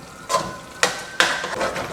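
A spoon stirring chicken back in curry gravy in a pot, producing three distinct scraping clacks spaced unevenly over a quiet background.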